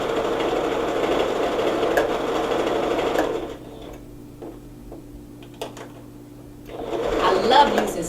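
A sewing machine runs in steady bursts as stretch fabric is stitched, loud for the first few seconds, pausing into quiet, then whirring again near the end.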